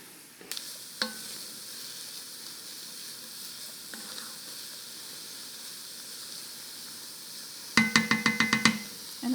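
Onions sizzle in butter in a pot for Quebec pea soup, a steady soft frying hiss throughout, broken by a few spoon taps and a quick burst of stirring clatter near the end.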